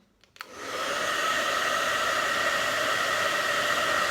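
Hair dryer heating a Jamberry nail wrap, clicking on after a brief quiet moment and then blowing as a steady, close whoosh with no one speaking.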